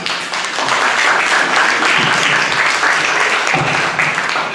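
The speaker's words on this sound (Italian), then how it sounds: "al quale rivolgerei un altro applauso" Audience applause at an economics round table, a loud, dense and steady wave of clapping from a seated crowd, continuing evenly for several seconds with faint voices beneath.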